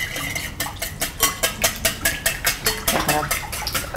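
A wire whisk beats pancake batter in a bowl in a quick, steady rhythm of about four strokes per second, each stroke a crisp metallic swish close by.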